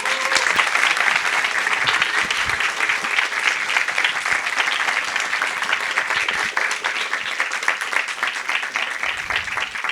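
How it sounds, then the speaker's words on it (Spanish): An audience at a screenwriting talk on horror films gives a guest sustained, loud applause, dense clapping from a large crowd filling the full ten seconds without a break. "Démosle un fuerte aplauso,"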